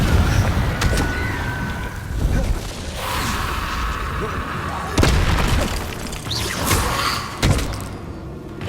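Heavy booming blasts from the Confringo fire spell in the video game Hogwarts Legacy, several loud thuds and bursts over a dense rumbling battle soundscape.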